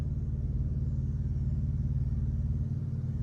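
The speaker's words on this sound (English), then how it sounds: "you'll hear every single car drive by" Steady low engine rumble of a car close by in a busy area, continuous and moderately loud with no talking.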